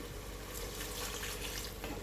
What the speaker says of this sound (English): Then we're gonna put some of the chicken stock in here.